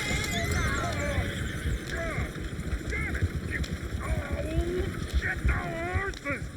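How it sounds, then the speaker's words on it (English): Horses neigh and whinny several times in Red Dead Redemption 2, their calls rising over a constant rumble of hooves, wheels and outdoor ambience, with voices talking throughout. "Shit, the horses!"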